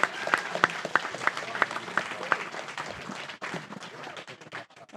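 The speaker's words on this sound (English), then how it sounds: "Can we give a huge round of applause for Addie from Gett?" An audience at a tech talk applauds a speaker, a mix of sharp distinct claps and a denser patter that thins out toward the end.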